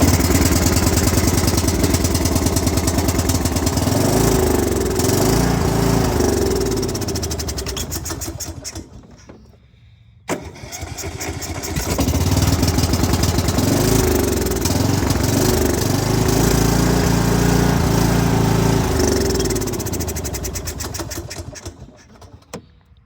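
A Kohler small engine runs on full choke and full throttle, a loud steady mechanical drone with harmonic bands that sags, cuts out briefly and restarts, then settles back to a constant roar before dropping off at the end.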